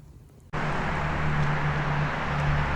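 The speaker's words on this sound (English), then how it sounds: "I do apologize for the loud traffic." Loud, steady road traffic roars just outside a rental home, starting abruptly and then holding as a constant wash of passing cars with no talk.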